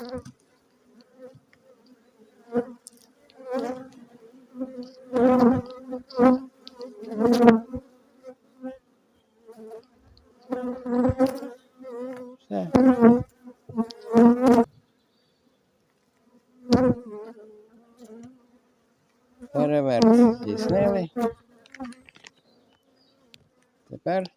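Close honeybee buzzing at a hive that swells and fades in irregular bursts, with a steady low hum between the louder passes.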